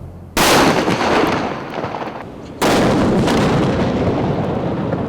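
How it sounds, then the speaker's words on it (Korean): A small test batch of homemade gunpowder mixture explodes in two loud, sharp blasts about two seconds apart, each leaving a long roaring rumble behind it. "폭발물의 위력은 상당했습니다"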